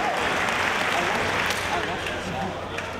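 Wrestling crowd at a live pro-wrestling event roars and cheers continuously, a dense, loud wall of noise with a commentator's voice running over it.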